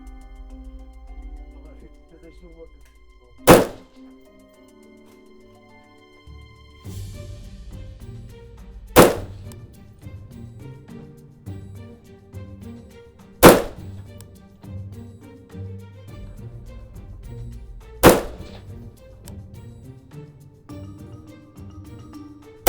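Four sharp, loud Colt AR-15A4 rifle shots at a 100-metre target ring out several seconds apart, with people talking quietly and some clatter between them.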